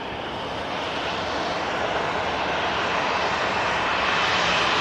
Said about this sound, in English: KLM climbs out, heading back over to Schiphol.